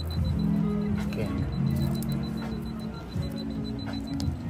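An alarm goes off with a steady, repeating high electronic beep that runs through the whole moment, partly masked by people talking and a loud background hum.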